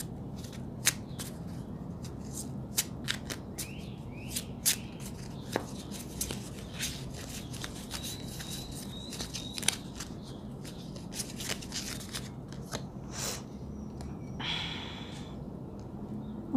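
Small tarot cards being shuffled by hand to pull a clarifier card, giving repeated crisp flicks and riffling snaps at an irregular rhythm, close and fairly quiet over a soft background hiss, with a longer rustling burst near the end.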